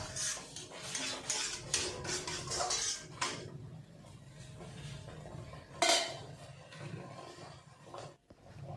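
Palak paneer mixed in a pan with a ladle, a run of clattering metal scrapes and knocks in bursts, then quieter stirring with one sharper clank, close and moderate, no voices.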